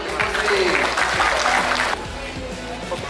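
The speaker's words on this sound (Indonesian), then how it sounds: "Tepuk tangan dulu, Menteri." An outdoor crowd at a political event with ministers in Palembang breaks into loud applause, a dense burst of clapping that drops in level partway through and carries on more thinly while cheers mix in.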